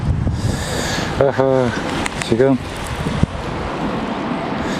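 Wind blows steadily at a reservoir bass-fishing spot outdoors, a constant rumbling buffet on the microphone beneath a man's brief speech.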